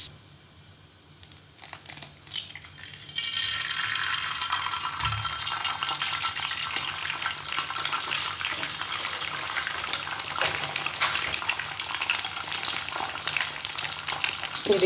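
An egg frying in a pan: a quiet moment, then a steady crackling sizzle that sets in after a few seconds and keeps going at a moderate level, close up.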